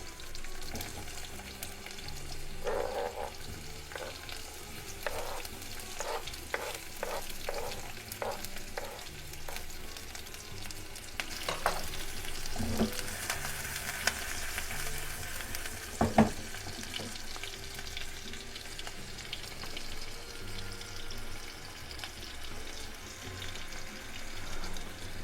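Diced onions frying in oil in a pan, a steady soft sizzle with a run of light stirring scrapes and taps early on and one sharper clink midway, no voices.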